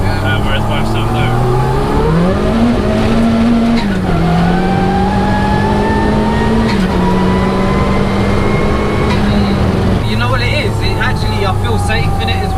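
A 340 bhp Peugeot 106 turbo driven fast, its engine droning loudly and rising in pitch through gears, with turbo whine and people talking over the steady in-car roar.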